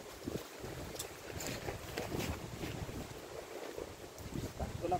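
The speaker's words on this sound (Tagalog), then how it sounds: "Ang dinig yun naman yung ano ng hangin, lakas." Strong gusty wind ahead of a typhoon buffets the microphone outdoors with uneven rumbling bursts, fairly faint overall, over a low background that sounds like moving water.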